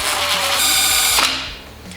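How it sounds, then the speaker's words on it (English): Pneumatic impact wrench tightening bolts during final assembly of a BMW M52 B30 race engine, a steady high-pitched mechanical whir running loud and continuous for two seconds before easing off, with no talk. "get me the impact wrench please"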